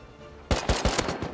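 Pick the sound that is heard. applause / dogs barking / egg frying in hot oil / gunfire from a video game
gunfire from a video game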